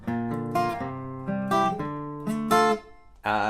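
An acoustic guitar plays a repeating chord pattern, with bright strummed and picked strings ringing clearly and close up, no voices.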